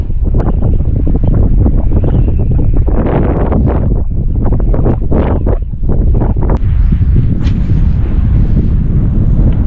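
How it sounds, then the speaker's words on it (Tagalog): Loud, rough wind buffets the microphone in heavy rumbling gusts while fishing outdoors, roaring and thumping throughout with brief surges. "Biglang bugso yung hangin."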